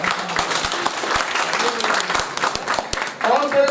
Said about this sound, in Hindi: एहसान कुरैशी के इस्तकबाल में तालियां बजा देंगे